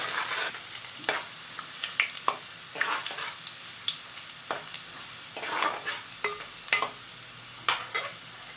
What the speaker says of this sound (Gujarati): હવે નાખી લસણને લાલ થવા દેવાની